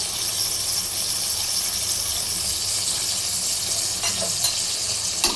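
Turmeric and chilli powder spice paste with a little water, stirred and sizzling in a pan for a hilsa dish, with a continuous loud hiss and a few sharp spatula scrapes near the end.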